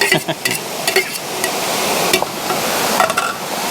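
Basil and onion stir-fry sizzling in a small hot pan outdoors while a utensil scrapes and clacks against the metal in irregular stirring strokes, close up.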